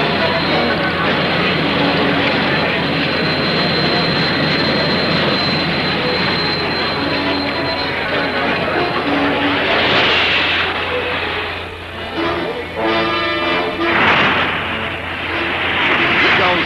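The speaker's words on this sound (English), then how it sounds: "a machine that runs with a whoosh instead of a roar" A turbine race car at the Indianapolis 500 whooshes past at speed, a loud, steady jet-like roar that swells and fades as it goes by, with crowd and track noise around it.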